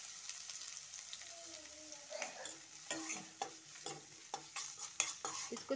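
Finely chopped onions fry in oil in a kadai for gobi manchurian gravy with a soft, low sizzle, broken by a series of sharp spoon scrapes and stirs that grow more frequent toward the end.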